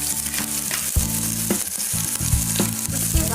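Chopped garlic and ginger fry in hot oil, making a loud, continuous close-up sizzle with crackling spits over a low steady hum from the stove. No voices are heard.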